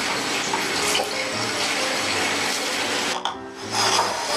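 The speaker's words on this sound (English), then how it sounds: "let's put in our 1/4 cup of water" A quarter cup of water is poured into brownie mix in a bowl, giving a steady splashing pour that runs for about three seconds, then a brief pause and a short trickle.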